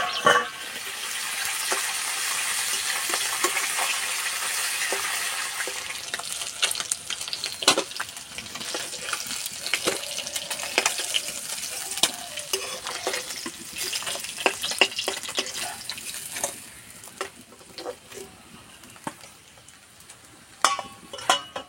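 Pieces of silver carp frying in hot oil, a steady hiss and crackle with frequent sharp pops and occasional scrapes of a spatula against the pan, easing off near the end.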